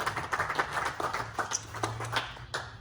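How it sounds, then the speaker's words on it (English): Audience applause breaks out after thanks go to a golf course crew for course conditions, a steady patter of many hands clapping at moderate distance with a low hum underneath. "I want to give Jared and his team a big round of applause for the course conditions out there"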